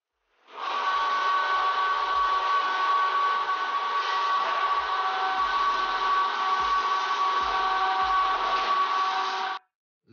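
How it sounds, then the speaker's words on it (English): Meat grinder running continuously in a noisy meat processing workshop, a steady loud mechanical whine with a tonal hum that starts abruptly and holds evenly for about nine seconds before cutting off, no voices. "The workshop is very noisy. The meat grinder works all day."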